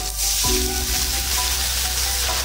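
Tomatoes with salt frying in a pan for a vegetarian papaya curry, giving a steady close sizzle with faint stirring scrapes and no talking.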